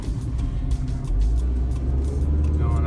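A 2005 Hyundai Accent drives through city streets, its engine and road rumble steady and close throughout, rising slightly in loudness partway through with no talk over it.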